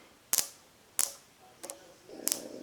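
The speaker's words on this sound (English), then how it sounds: "You can actually hear the relay pulsing once a second" A relay in a high voltage pulse zapper clicks sharply about once a second, four in a row, each a quick double tick close by over faint background hiss.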